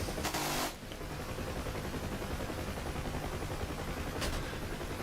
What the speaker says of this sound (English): Oh, we're getting shot, and I can hear some bullet impacts